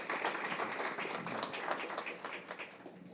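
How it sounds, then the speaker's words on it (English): Graduation audience at a Houston Health CRNP ceremony applauds steadily, a dense wash of many hands clapping at moderate distance with no talk over it. "Please give him a round of applause."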